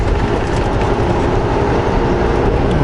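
Vancouver SkyTrain rumbles along the rails in a loud, steady roar with a low rolling undertone, heard up close without letup.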